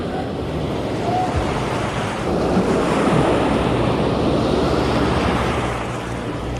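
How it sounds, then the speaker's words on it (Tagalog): Loud, continuous surf roars close by as waves crash and wash, with wind buffeting the microphone throughout. "Lalaki ng alon."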